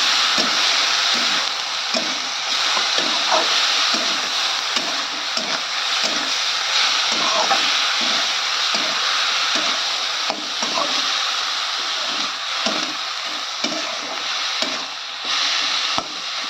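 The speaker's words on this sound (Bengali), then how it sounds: "সুন্দর ঢাকা দিয়ে দিয়ে আমি ভালো করে ভেজে নেব" Curry sizzles steadily in a pan with chilli powder and ginger paste, a dense continuous hiss broken by regular scraping knocks of a spoon stirring through it, with no voices.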